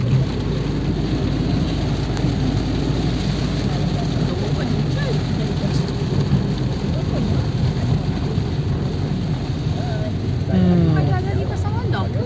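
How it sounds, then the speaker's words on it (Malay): Heavy rain pours down steadily as a dense, unbroken roar, with people talking underneath. "Hujan robek, hujan."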